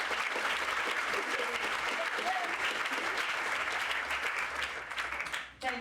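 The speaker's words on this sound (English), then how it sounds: "give them a big round of applause" Sustained applause from a seated audience at a film talk on stage, dense and steady clapping throughout, briefly dipping near the end before resuming.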